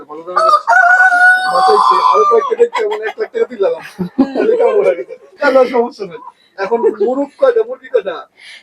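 Roosters and hens at a poultry farm holding twenty roosters and forty-two hens, with a drawn-out crow early on and scattered clucking beneath someone talking almost continuously.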